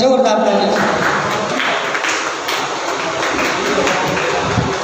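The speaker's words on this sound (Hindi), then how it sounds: "जोरदार ताली" An audience at a Hindi-language public event claps in welcome, a dense continuous patter of applause that holds steady for several seconds, with some voices mixed in.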